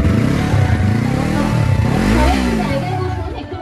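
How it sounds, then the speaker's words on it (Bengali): Yamaha MT-03 motorcycle starting and idling, a steady loud exhaust note close by with a couple of rising and falling revs, rumbling continuously throughout with no talking. "জাস্ট এবার এক্সস্ট নোটটা তোমরা শোনো ঠিক আছে আমি এখনই বাইকটা হালকা স্টার্ট দেবো"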